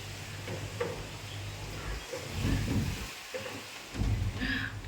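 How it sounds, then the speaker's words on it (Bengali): Rain falling on a rooftop during a strong storm from Cyclone Remal, a steady broadband wash with gusty swells and brief low rumbles, no talk. "ছাদে বৃষ্টিও পড়ছে, দেখো ভিজে গেছি"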